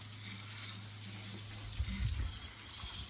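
A handheld shower head sprays steady water onto a truck, rinsing off spilled diesel outdoors at night at about 3000 m altitude; a continuous hiss and splash with slightly louder bursts near the end.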